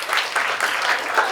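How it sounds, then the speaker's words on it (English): Applause from an audience at a student event fills the whole short stretch as dense, steady clapping that is loud and close, with no voices over it. "A round of applause for her."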